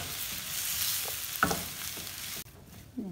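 Potato samosa filling is stirred and cooked in a pan, giving a soft continuous sizzle with a few sharp scrapes and taps of the spoon, then a quieter stretch.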